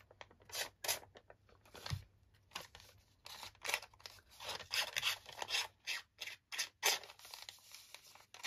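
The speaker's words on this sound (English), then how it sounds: "So you can just take scissors" Close, quiet snipping and scraping as scissors work along the edges of a paper receipt in short bursts with brief pauses between strokes.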